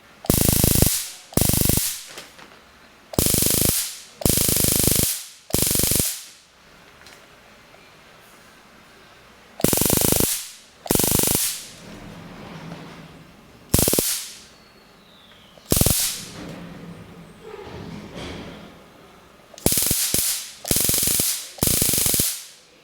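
Homemade taser electroshock stun gun rated at 400,000 volts firing in loud, harsh crackling bursts of about a second each, mostly in close pairs or runs, separated by quieter stretches.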